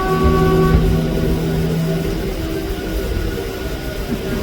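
Local train pulling out of Majherhat station, a steady loud rumble with a brief horn-like tone at the start, continuous throughout.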